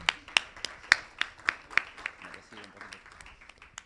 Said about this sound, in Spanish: Si quieren, un aplauso.